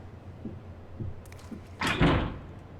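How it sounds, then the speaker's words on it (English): A door slams inside the horror video game Death Mark, a single heavy bang after faint scattered knocks in an otherwise quiet scene, the hit ringing out briefly before fading. "I hear a noise like something slamming against the door."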